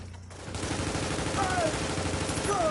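Turret gunfire in The Division, a survival-mode shooter, rattling in dense continuous bursts that blend into other combat noise for the whole stretch, fairly loud and close.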